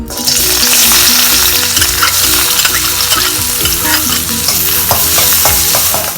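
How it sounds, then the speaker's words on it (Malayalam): Finely chopped onions dropped into well-heated oil for a yam masala curry, sizzling loudly and continuously up close, with a low rhythmic tapping underneath and scattered spatters and stirring scrapes, no voices. "നന്നായി ചൂടായിട്ട് അപ്പോൾ നമ്മൾ ചെറുതായിട്ട് അരിഞ്ഞ് വെച്ചേക്കണ സവാള നമുക്കതിലേക്ക്"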